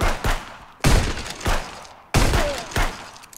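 Gunfire in the Contraband Police video game: four sharp, loud shots spaced unevenly, each with a booming attack and a short decaying tail, with no talk over them.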